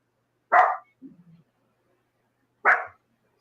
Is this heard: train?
no